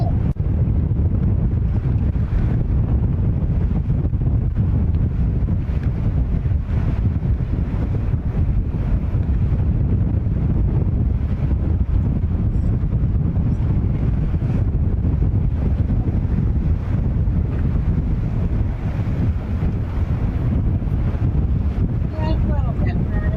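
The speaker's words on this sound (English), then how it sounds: "it's real windy out" Strong wind buffeting the microphone outdoors at JFK International Airport, a constant loud low roar and rumble with no break.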